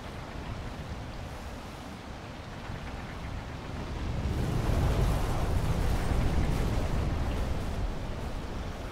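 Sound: rain falling in video game Wild Hearts

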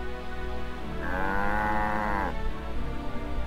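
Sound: cow mooing in video game Alundra 2

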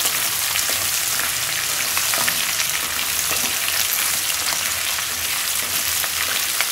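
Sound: radish sautéing in a pan for sambar

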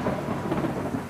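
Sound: thunderstorm with thunder and rain

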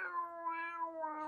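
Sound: person imitating a cat's meow

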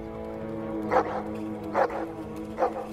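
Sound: dog barking

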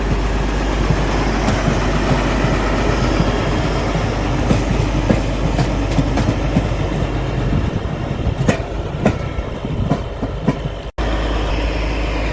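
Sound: railway track packing machine moving on rails at Beed station

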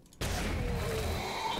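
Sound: blunderbuss gunshot in the video game 7 Days to Die

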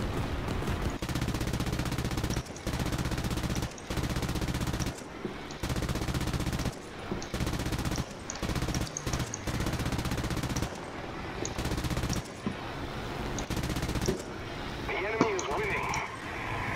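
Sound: machine gun fire from the video game War Thunder

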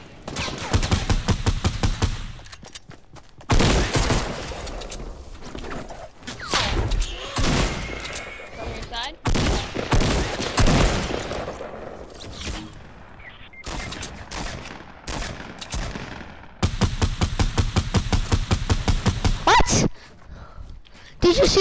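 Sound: gunshots in a shooter video game

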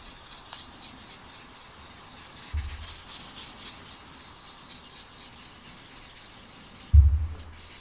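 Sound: sanding a plastic model canopy with a fine-grit polishing stick

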